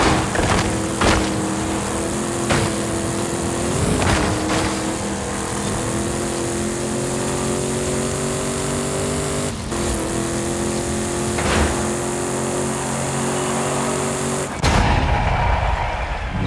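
Ford F-450 truck engine roars loudly in Forza Horizon 5, a steady droning race with rising pitch and sharp impacts and gear-shift breaks scattered throughout.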